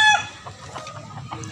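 Roosters crow and cluck at a Cebu gamefowl farm, a loud crow opening the moment, then scattered clucks and calls over a low steady background.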